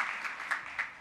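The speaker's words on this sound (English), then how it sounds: "Please, I'll request everybody to clap for him" Audience applause in a plenary session hall at an Asian philosophy conference, welcoming a young scholar; brief steady clapping with a couple of louder swells, fairly soft and at a distance, with no voices.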